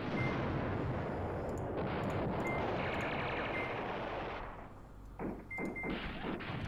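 Artillery fire in the war game Command Ops 2, heard as a sustained rumbling barrage with a few sharp reports at moderate volume, fading and breaking up toward the end, with no speech.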